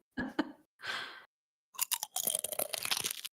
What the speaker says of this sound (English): Make sure you chew loudly into the microphone for everyone to taste it.